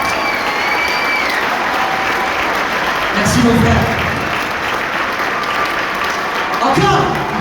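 Audience applause at the Grand Rex in Paris swells under a voice talking over the crowd, with louder bursts of clapping around the middle and again near the end.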